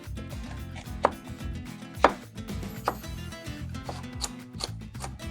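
Cucumber and pepper are chopped for gazpacho with a knife on a board, a rapid, even run of close, crisp taps with a few sharper, louder strikes.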